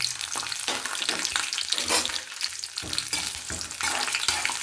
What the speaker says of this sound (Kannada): ಫಸ್ಟು ನಾನು ಇವಾಗಲೇ ಕಡಲೆಕಾಯಿ ಬೀಜನ ಇದಕ್ಕೆ ಹಾಕ್ಕೊಂಡ್ಬಿಡ್ತೀನಿ